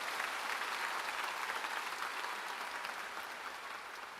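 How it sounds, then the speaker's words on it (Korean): A church congregation claps together during a Sunday afternoon worship service, a thick, even roar of applause that slowly tapers off toward the end. "그분이 하나님인 걸 믿으면 박수를 하게"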